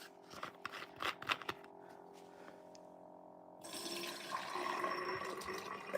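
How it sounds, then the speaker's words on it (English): Essentia water pours into a container in a chemistry lab, a steady rushing splash that starts partway through after a few light clicks and handling knocks. "So essential water, in it goes."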